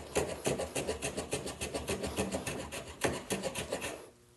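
A hand plane skew-cuts across hardwood, making a close, steady series of dry rasping strokes in quick rhythm that stops abruptly near the end.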